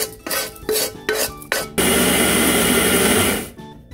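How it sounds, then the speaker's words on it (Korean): A few short bursts of a blender pulsing while grinding roasted ingredients into natural seasoning, then a long steady high-pitched grinding whir that stops abruptly near the end. "믹서기에 갈도록 하겠습니다."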